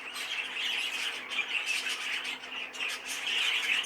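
A cinnamon dark green hen, a caged breeding bird, gives repeated thin squawking chirps over a faint continuous background hiss.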